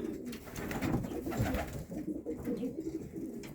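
Racing pigeons of the Vandenabele line coo steadily in a loft, a dense, soft, throaty murmur from several birds filling the whole stretch with no talk.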